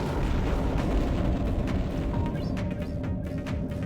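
A freighter explodes in G-Police 2, a sustained, heavy booming rumble that rolls on loudly before thinning out slightly toward the end, with no voices.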